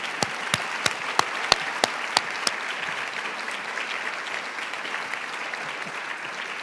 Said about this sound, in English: a round of applause for April